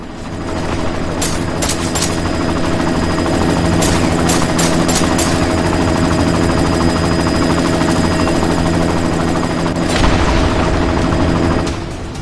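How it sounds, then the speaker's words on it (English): Helicopter in the video game Deus Ex, a loud continuous rotor and engine roar throughout, punctuated by bursts of rapid gunfire clustered early and again near the end. "You've got to stop that chopper."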